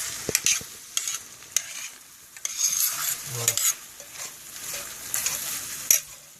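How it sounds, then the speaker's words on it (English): Butter melting and sizzling in a cast iron pan for fajitas, a steady close frying hiss broken by occasional stirring scrapes and clicks, with no talk. "now the butter is melting in the cast iron pan"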